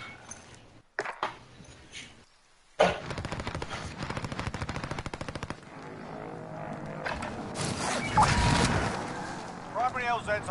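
Video game weapon fire with little recoil, heard as rapid automatic bursts of shots with clipped, rhythmic cracks, loud and close, mixed with other game sounds and some voices.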